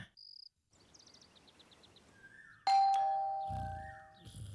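A doorbell at a front door rings with a sharp electronic chime that sustains and rings out, loud and close, following a quiet stretch of faint chirping insects and a few soft beeps.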